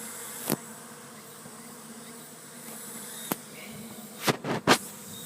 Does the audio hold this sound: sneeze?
no